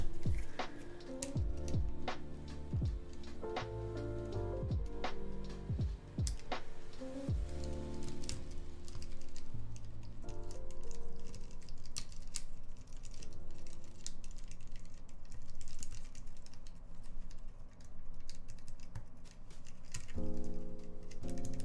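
Keys clack on a Fjell keyboard fitted with Gateron Tangerine switches as a bare-switch test, with dense close tapping and brief rapid bursts continuing throughout.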